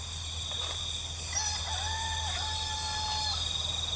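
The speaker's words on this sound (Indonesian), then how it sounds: "Suara ayam kan tuh, denger ya." A rooster crows at 3 am at a night campsite, one drawn-out call rising and holding clearly over a steady low hum and insect-like hiss, with no voices.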